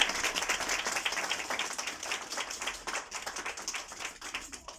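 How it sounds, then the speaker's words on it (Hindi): Audience applause at a Hindi-language Christian church service, a steady wash of many hands clapping at moderate level for about five seconds, thinning slightly toward the end. "भरपूर तालियां बजाएं"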